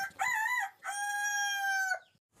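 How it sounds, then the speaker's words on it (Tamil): A rooster-like crow rings out in two long harmonic calls, the second drawn out and steady, close and loud, with no talking. "கோழி கூவும்."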